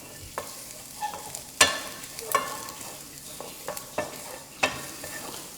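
Dried red chillies frying in oil in a pan, a soft steady sizzle under repeated clinks and scrapes of a stirring spoon against the pan, close and without talk.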